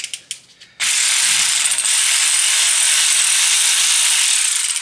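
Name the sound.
ratchet loosening brake disc securing bolt, Volkswagen/Audi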